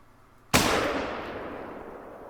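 A single sharp .357 handgun shot in theHunter, hunting game, bursts out loud and close, then rings off in a long fading outdoor echo with no talking.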